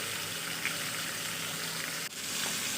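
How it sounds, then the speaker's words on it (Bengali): Rupchanda fish fries in hot oil in a wok, giving a steady, close, even sizzle and hiss throughout with no talking. "মাছটাও ভাজা হয়ে যাচ্ছে"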